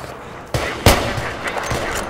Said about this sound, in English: Some mortar over there.